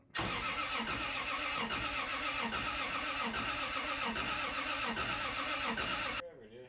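A car engine cranks steadily for about six seconds, the starter churning in a rapid, even rhythm without catching, loud and close, then cuts off.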